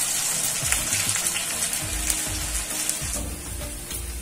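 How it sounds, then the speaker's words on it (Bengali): Pui shak and mung dal fritters frying in hot oil, a steady close bubbling sizzle with a few soft knocks as they are turned, no voices. "এখন মুই এলা আবারও উল্টে পাল্টে ভাজি নেই"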